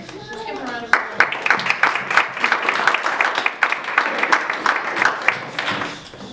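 A room of listeners at a student-parent panel discussion claps for a speaker, with the applause starting sharply and holding as a lively, mid-sized clapping for about five seconds. Faint voices and a voice sit under it before the clapping fades.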